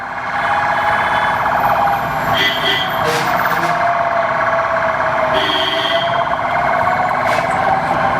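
An ambulance siren wails steadily nearby with a buzzing, wavering tone, while people talk over it.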